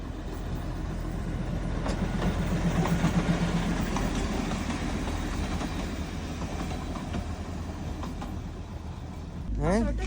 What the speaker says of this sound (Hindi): अभी ट्रेन आ रही है।